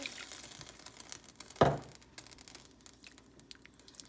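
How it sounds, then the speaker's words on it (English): About a cup of water poured into a pot of hamburger vegetable soup, a short splashing pour in the middle against quiet kitchen background. "I'm going to add some water to it, about a cup of water."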